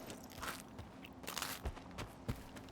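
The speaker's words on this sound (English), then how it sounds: "So we're just gonna eat all of our bread. Just all that crunchiness in bread." Faint crunchy bites of bread from a video game character eating, a few soft, irregular crunches over a quiet game background.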